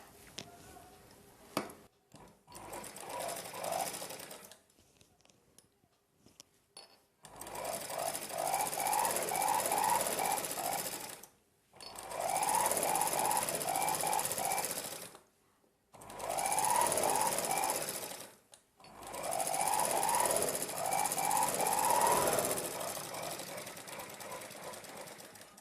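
A sewing machine stitches blouse fabric in four long, loud bursts of rapid mechanical whirring, separated by short pauses with faint handling sounds, close by.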